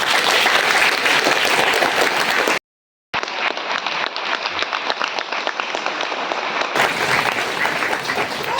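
A church congregation claps during an Advent sermon, a loud, dense wash of applause that cuts out briefly, returns thinner, then swells back to full strength.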